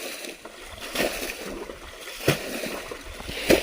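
Water sloshing and splashing as a bucket bails out a shallow stream pool during traditional fishing, with a few distinct scoops and splashes close by over a steady outdoor background.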